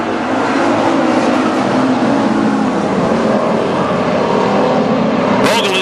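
WISSOTA street stock cars race around Granite City Speedway, their engines a loud, continuous roar with no break.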